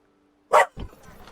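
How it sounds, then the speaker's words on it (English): A puppy lets out a single sharp bark at close range, followed by a softer muffled yelp and faint rustling. "Sorry, I don't know if you just heard that bark."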